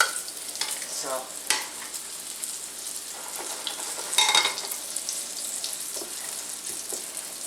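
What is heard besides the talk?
redfish frying in a pan in batches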